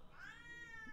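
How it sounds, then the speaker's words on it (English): A house cat lets out one clear, drawn-out meow with a rising then falling pitch, close and fairly loud over a quiet room, no voices heard. "we have two very, very, very vocal cats"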